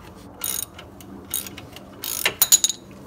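A ratchet cranks a bolt through the brake caliper housing against the rotor of a Ford Focus, giving several bursts of close, crisp clicking, the last ones loudest and quickest.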